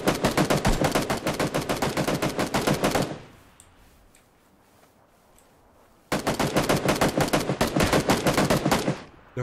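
Rapid automatic gunfire in the battle royale game Battlegrounds, loud dense bursts for about three seconds, a quiet gap, then another sustained volley of shots.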